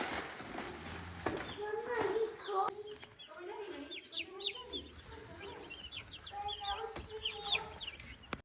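Cornish Cross meat chickens clucking in repeated short bursts close by, with a person talking over them at times.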